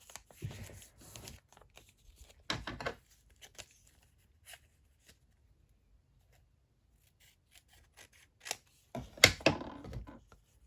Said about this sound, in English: I'm just going to trim that down.